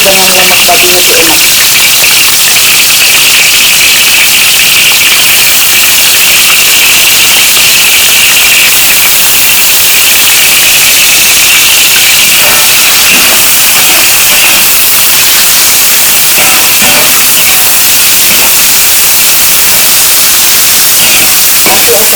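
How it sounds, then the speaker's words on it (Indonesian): Loud, dense sizzling and crackling of pork fat frying in hot oil, constant hiss throughout with occasional pops and faint voices underneath. "kita menggoreng lemak tadi ya"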